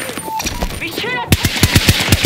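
Automatic gunfire in the Battlefield 2042 video game from the BSV-M rifle, a rapid regular burst of sharp shots after a moment of mixed battle noise and voiced radio chatter.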